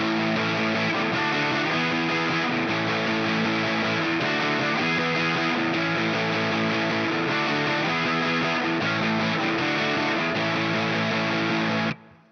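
Distorted electric guitar plays the verse of a song, a steady, dense punk chord strum held loud and continuous for about twelve seconds before it cuts off abruptly.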